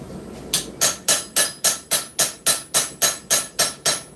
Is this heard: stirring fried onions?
no